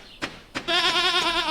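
A sheep bleats in the farming video game Stardew Valley: two quick clicks, then one loud, wavering bleat up close. No voices are heard.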